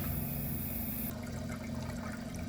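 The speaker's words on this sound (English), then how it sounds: "The flush is nice, although I would prefer if it was a little longer." A 1987 Kilgore Aladdin toilet flushes with a steady, close rush of water that runs for the whole short stretch, with no one talking.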